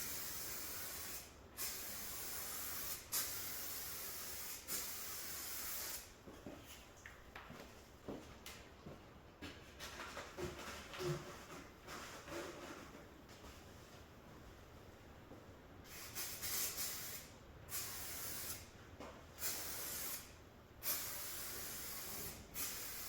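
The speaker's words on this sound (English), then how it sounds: "Just go ahead and mix up some black so we can spray right here on these panels." A spray gun lays black basecoat paint onto the panels of a Smart Fortwo in a steady, faint hiss, broken by several short pauses and restarts, with no talk.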